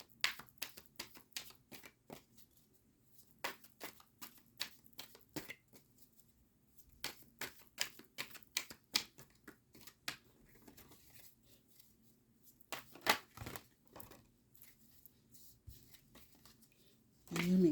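Tarot cards are shuffled and pulled close by, making soft, scattered flicks and light taps in irregular clusters with short quiet gaps between them.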